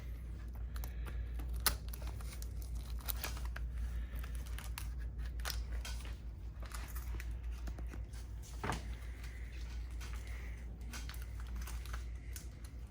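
Scissors snip new screws for a Glock MOS optic plate and Trijicon RMR mount out of their plastic packaging, making faint, close, scattered clicks and crinkles over a low background hum.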